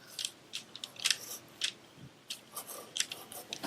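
Crescent roll dough cut with scissors for a kid-friendly fried Oreo recipe, giving a string of short, close, crisp snips in an uneven rhythm with quiet gaps between them.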